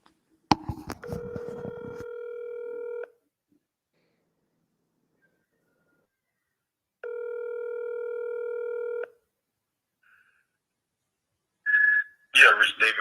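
A telephone dials out, with two steady electronic tone bursts of about two seconds each separated by silence, followed by a brief voice at the end.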